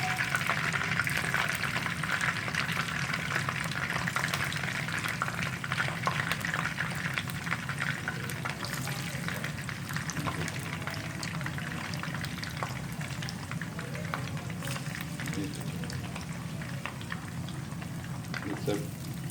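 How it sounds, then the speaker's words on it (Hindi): Boneless marinated chicken for Chicken 65 fries steadily in hot oil, a dense continuous crackle and bubbling throughout, with faint background voices now and then. "इसी तरह हम बाकी का चिकन जो मैरिनेट किया वो भी डाल के हम इसको"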